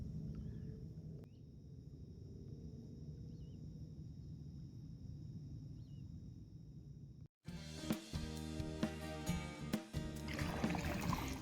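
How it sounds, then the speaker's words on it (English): Kayak paddling on calm water at sunset, soft splashes and strokes close by in a quiet outdoor setting with faint insects, then a louder stretch of nearby handling and dripping water toward the end. "I'm trying to hurry up and paddle so I can catch the sunset"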